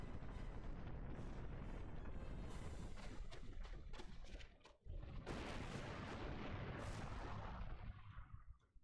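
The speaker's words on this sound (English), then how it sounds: "Okay, that's the floor destroyed." A floor being destroyed in Final Fantasy X-2 unleashes a dense, roaring rumble of blasts and crashes, continuous and heavy, with a brief lull midway before another surge that tails off.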